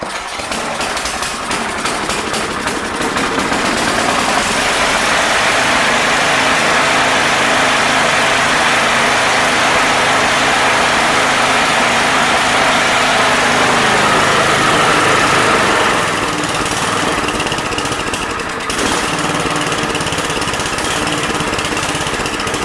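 A pull-started snow blower engine catches and runs at a loud, steady idle close by. Its buzzing drone holds for about twenty seconds with slight surges and no speech.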